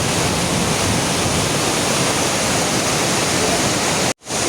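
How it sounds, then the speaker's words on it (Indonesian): Bedegung waterfall in Muara Enim roars as a steady, loud broadband rush of falling water, unbroken until a brief cut near the end. "Air terjun."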